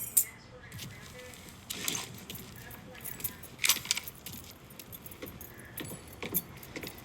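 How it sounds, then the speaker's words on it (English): Car keys jangle in the Mafia 3 video game, with several brief metallic rattles and clinks scattered over a low ambient bed of game sound. "Hey, man, grab those keys."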